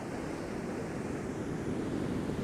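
Surf rolls onto a beach on the Holderness coast of England, a steady, loud wash of breaking waves mixed with wind buffeting the microphone, with no voices.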